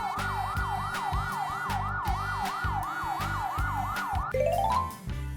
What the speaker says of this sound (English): Police patrol car.